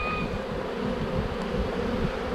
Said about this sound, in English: This was probably one of the biggest swarms I've ever seen,